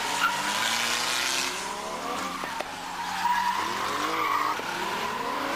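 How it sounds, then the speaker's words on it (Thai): Vans and pickup trucks race on a track, engines roaring loudly and continuously with tire squeal and skidding layered over the steady motor noise. "นี่ครับรถตู้รถกระบะก็แข่งกันได้ครับ"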